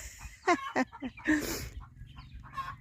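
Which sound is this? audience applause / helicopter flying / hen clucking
hen clucking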